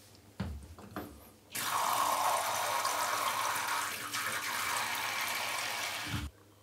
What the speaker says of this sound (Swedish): Och så fyller vi på med lite nytt vatten.